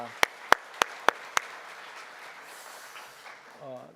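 Applause from a church congregation at a Wednesday worship service at Yoido Full Gospel Church: five sharp, evenly spaced claps ring out in a large hall, fading into soft diffuse crowd noise, then a voice begins speaking.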